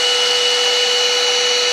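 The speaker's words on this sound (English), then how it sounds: "This vacuum cleaner goes really fast" A vacuum cleaner runs fast and loud at a steady high-pitched whine, alone and unbroken throughout.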